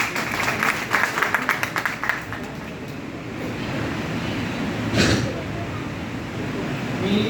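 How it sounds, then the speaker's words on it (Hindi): Audience clapping for a guest at an Ayurved business meeting in Pune, a burst of applause in the opening seconds that thins into a steady crowd murmur with a brief swell near the end. "एक बार श्याम जी के लिए जोरदार ताली होगा"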